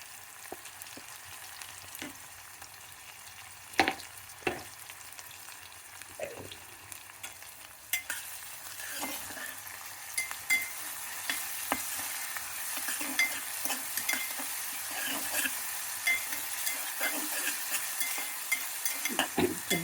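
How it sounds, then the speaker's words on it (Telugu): Onions and tomatoes fry with ginger garlic paste for a mutton and beans dish: a soft, steady sizzle rises and thickens midway, dotted with scattered clicks and scrapes of stirring, fairly faint and without speech. "ఉల్లిపాయలు వేగినాయి, టమాటాలు వేగుతున్నాయి, అల్లం వెల్లుల్లి పేస్ట్ ఉంది."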